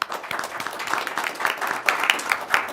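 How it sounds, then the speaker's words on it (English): A round of applause breaks out at a December city council meeting, steady crowd clapping that rises slightly toward the end, with faint talk mixed in. "I'd like to just give you a round of applause."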